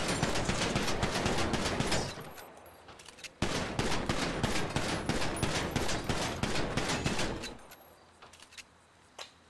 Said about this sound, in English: So let's just try out the pistol.